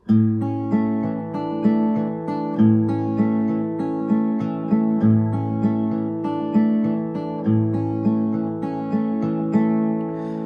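Plucked guitar notes roll out in a steady, flowing fingerpicked pattern, bass notes alternating under brighter melody, the intro of a song played solo at a brisk tempo with no voices.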